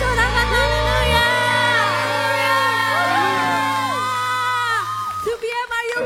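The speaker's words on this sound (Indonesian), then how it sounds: "Sorakan haleluya." Church congregation shouting and cheering hallelujah in a loud, sustained mass of voices that fades near the end, with whoops rising over the crowd.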